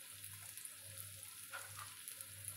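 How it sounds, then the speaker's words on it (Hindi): Chopped coriander sautéing in a hot pan, a steady close sizzle with soft stirring scrapes and small pops running throughout, no talking. "हल्का सा सौते कर लेंगे, कुछ सेकंड्स के लिए इसको सौते करेंगे"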